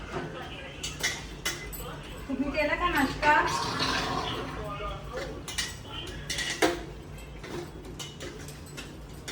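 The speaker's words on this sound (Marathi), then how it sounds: "गाईस घेतले चहा नाश्त्याची भांडी घासायला" Breakfast tea dishes are washed at a home sink, with scattered clinks and clatter of utensils and running water while people talk nearby.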